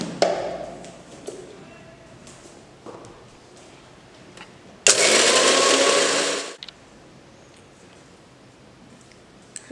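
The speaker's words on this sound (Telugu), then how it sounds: "పుట్నాల పప్పు అన్నీ మిక్సీ జార్లో వేసుకొని మిక్సీ పట్టుకోవాలి." Roasted gram and peanuts are ground in a kitchen mixer-grinder jar. A few light taps and handling knocks come first, then a loud whirring burst of about two seconds stops abruptly.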